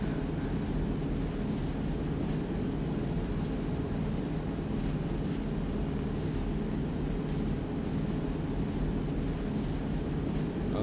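Aircraft engines in the military game Arma 3 drone steadily at an airfield, a loud continuous low roar and rush holding at an even level throughout with no voices.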